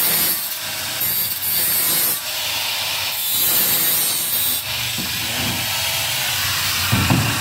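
A grinder works steadily on a metal screen for a 900 series three-track window, giving a loud, continuous abrasive roar with a few brief dips in pressure.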